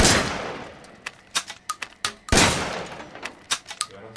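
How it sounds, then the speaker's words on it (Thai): Two loud shotgun blasts in the Resident Evil Village video game on PSVR2, each followed by a quick series of sharp mechanical pump clicks and clacks, heard close and alone. "โดน2ซองกระจายครับยิงแล้วชัก"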